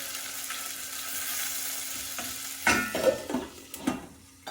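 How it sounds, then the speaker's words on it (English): Ginger fries in a pan for Indian ginger cardamom rice with a steady soft sizzle, then a spoon stirs it with scraping and clattering in the second half, close and with no talk. "You can actually start to smell the ginger once it goes in there. Give it a stir."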